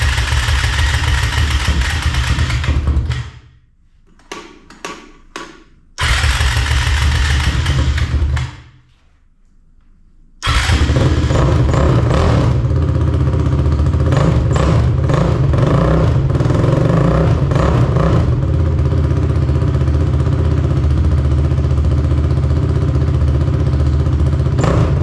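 A 450 motorcycle engine with a newly fitted twist throttle revs loudly and close, cutting out briefly twice early on, then running steadily at a high, sustained roar to the end.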